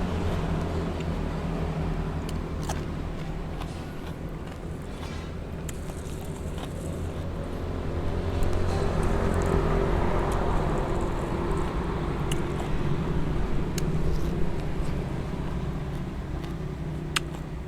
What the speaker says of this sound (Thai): ได้ยินเสียงรถ